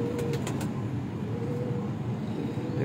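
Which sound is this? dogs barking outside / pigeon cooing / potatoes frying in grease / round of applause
pigeon cooing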